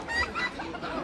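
Roosters and other fowl cluck at a busy open-air market in Brasov, Romania, with several short calls overlapping against a dense crowd murmur and faint background talk.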